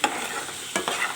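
Small boneless chicken pieces frying in a pan, a soft steady sizzle broken by two quick stirring scrapes, close and fairly quiet, no talk.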